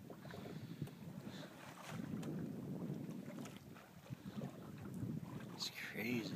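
A sailboat underway at night in wind, with steady broadband wind rush and water noise across the whole stretch, a faint voice briefly audible near the end.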